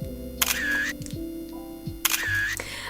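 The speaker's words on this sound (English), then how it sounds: "I'm going to take a selfie in portrait mode." An iPhone 15 Pro in white titanium fires its camera shutter for a portrait-mode selfie, with two crisp, close shutter clicks about a second and a half apart over soft handling noise.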